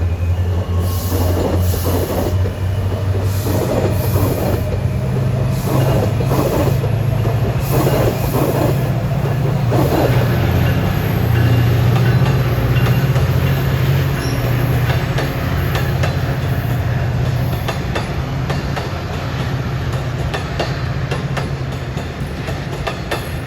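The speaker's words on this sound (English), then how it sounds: "Now we got a Perryville bound MARC train coming up alongside behind this metro" A Perryville-bound MARC commuter train runs alongside a metro train on the Northeast Corridor near Baltimore, giving a loud, sustained low rumble with rhythmic wheel clatter and occasional squeals, close by and without talk.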